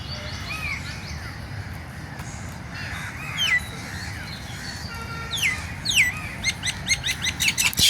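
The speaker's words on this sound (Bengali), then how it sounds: "শালিক পাখি" Common myna birds calling in Ramna Park, Dhaka: bright chirps and whistled notes, several close together near the middle and a quick run toward the end, over steady park background noise.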